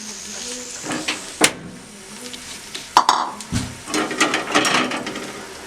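Chopped onions hit hot frying oil left from frying besan badiyan for a gravy, giving a sharp sizzling burst with clattering utensil knocks and stirring scrapes, fairly close and without talk.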